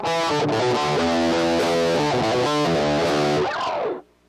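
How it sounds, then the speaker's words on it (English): Heavily distorted electric guitar chords ring out loud and sustained, shifting through several changes before cutting off abruptly near the end. "I'm gonna bring it just back down to distortion for now."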